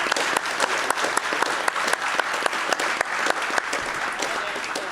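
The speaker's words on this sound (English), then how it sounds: "Can we please give a round of applause to our panel for taking the bullets here?" An audience claps for a discussion panel at a symposium, a dense, steady burst of many hands close and loud throughout, with no talking over it.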